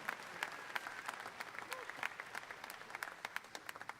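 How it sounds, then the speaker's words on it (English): Scattered audience applause in a livestock auction ring at a state fair's sale of champions, a thin, uneven patter of claps building slightly toward the end, heard without talk. "Folks, give all those a round of applause."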